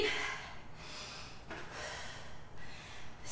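Heavy breaths during an intense legs and abs workout, three broad breathy bursts in a row, each swelling and fading, fairly close and audible with no talking.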